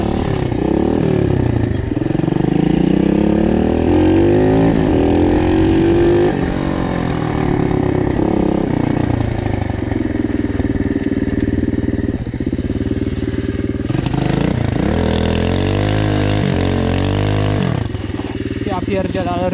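A Loncin 110/125 motorcycle engine revs hard on a first ride before a turbo install, loud and close, the pitch climbing and falling through several throttle pulls and gear changes while someone speaks over it.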